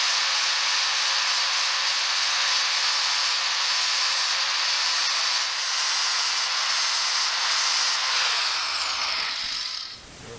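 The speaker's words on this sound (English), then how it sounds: "I'm going to take my flap disc and very gently just try to grind that screw out" Flap disc on an angle grinder gently grinding out a stuck screw in the dash of a Triumph TR4, a steady loud abrasive whine running continuously for about eight seconds before winding down.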